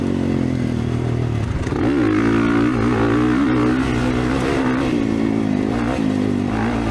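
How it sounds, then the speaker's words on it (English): Kawasaki KX450 motocross bike with an FMF exhaust runs on a motocross track, its engine loud and close with a steady rough drone and throttle swells and dips, plus some clattering over bumps. "that FMF exhaust sounds so good on this bike"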